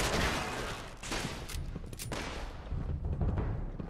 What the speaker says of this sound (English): But there sure is a lot of gunshots.